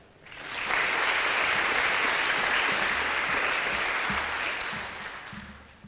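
An audience at a high school celebration of excellence awards bursts into loud, full applause that rises quickly, holds steady for several seconds, then gradually fades.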